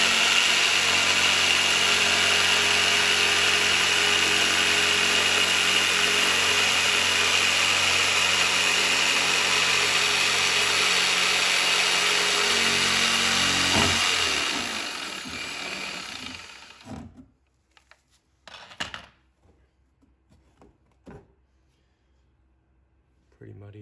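Power tool cutting into an EZGO golf cart body to fit LED headlights, a loud continuous whirring grind that cuts off about two-thirds through, followed by quiet handling noises.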